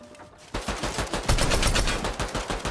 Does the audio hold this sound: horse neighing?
no